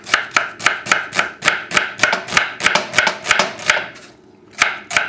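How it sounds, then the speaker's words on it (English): A knife thinly slicing shallots on a cutting board, giving rapid, evenly spaced crisp chops close up, with a short pause before the last two strokes. "the shallots I am going to slice as thin as possible"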